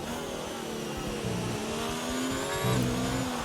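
An Alfa Romeo Formula 1 car races in a Formula 1 video game during a Grand Prix, its high engine whine climbing and shifting steadily at moderate loudness with no talk.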